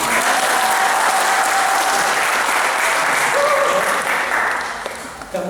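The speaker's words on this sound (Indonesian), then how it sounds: "Kasih tepuk tangan dong." Loud, sustained applause from a crowd at a night session of a YWAM Indonesia conference, a dense continuous wash of clapping that holds steady before tapering off at the close.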